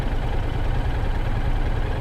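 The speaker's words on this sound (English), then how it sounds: "The MT-07 is really no different. It's really a torque monster, and really has a nice distinctive idling sound," A first-generation 2014 Yamaha MT-07 motorcycle sits idling close by, its engine giving a steady, even low rumble with no revving and no voices over it.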